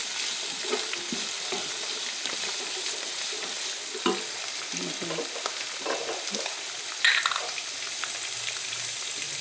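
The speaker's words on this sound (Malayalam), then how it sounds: "ചില്ലി ചിക്കൻ ഉണ്ടാക്കാനുള്ള ചിക്കൻ ഫ്രൈ ചെയ്യാണ്" Chicken pieces frying in oil for chilli chicken, a steady near sizzle with occasional stirring clinks and scrapes.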